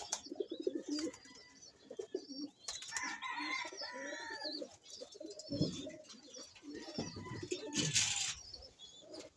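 Pigeons coo and murmur nearby, soft throaty calls overlapping with small chirps and a few flutters.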